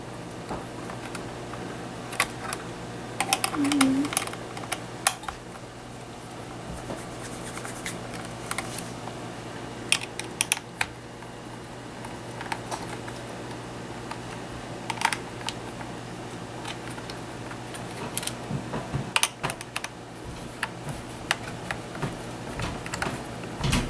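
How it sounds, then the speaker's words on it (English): A non-magnetized screwdriver backs four screws out of a laptop's hard drive bay, giving light close clicks and scratchy metal ticks at irregular intervals over a quiet background. "I use a non-magnetized screwdriver for this part. There are 4 screws."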